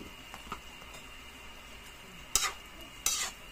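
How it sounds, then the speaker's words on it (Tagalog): Pancit noodles with squid balls cooking in a pan: quiet stirring and scraping over a low sizzle, with two louder clattering utensil strikes near the end. "Lutuin pa natin ang husto kasi hindi pa luto masyado ang ating pancit Mickey."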